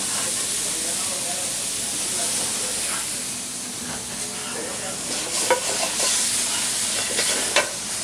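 Garlic added to a hot pan sizzles loudly with a dense, steady frying hiss and a few crackling pops, while a voice talks faintly underneath.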